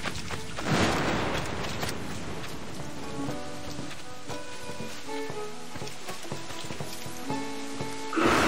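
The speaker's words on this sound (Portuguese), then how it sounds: "Chovendo pra caraca" Heavy rain pours in the video game Assassin's Creed 4 Black Flag, a continuous hiss of downpour with a loud rushing burst near the start and again at the end, layered with soft musical tones.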